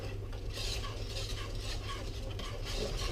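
A spoon stirs custard with melting butter and vanilla in a pot, a continuous soft swishing and scraping close by, with no talking.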